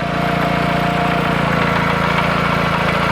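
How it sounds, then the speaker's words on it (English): Small gas engine of a Graco LineLazer 3400 line striper running steadily as the pump builds pressure, a continuous close, even drone with no pauses and no talk. "You can hear the engine doesn't struggle that much because it's a strong engine for the size of the pump."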